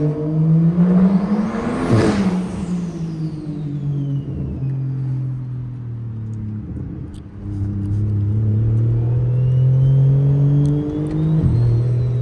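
A straight-piped single-turbo BMW 335i exhaust drones loudly and steadily while driving, with revs swelling and easing through a gear change and a brief lift around the middle, heard close with no talking.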